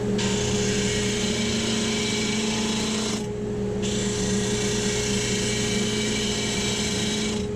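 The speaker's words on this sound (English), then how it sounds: "Flip it over, and I'll sand it down to the stop block hits." A power sander grinds steadily against a piece of segmented woodwork, taking one face down until it meets a stop block, loud and continuous with a brief dip partway through.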